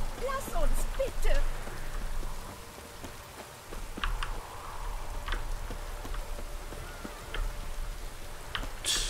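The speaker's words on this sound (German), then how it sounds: "Es regnet immer noch." Steady rain patters on a surface in a video game, with scattered drips and ticks, continuous throughout, under faint background talk.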